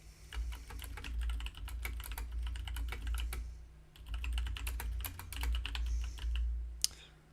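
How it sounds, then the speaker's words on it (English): Steady computer keyboard typing in bursts of rapid key clicks, close and clear, with a brief pause near the middle, during a Godot 4 game development session; a low constant hum sits underneath and no one speaks. "will not be talking while I type"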